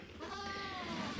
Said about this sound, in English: Look at this goat.